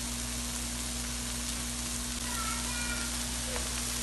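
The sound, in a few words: bottle gourd greens added to cooking lentils in pan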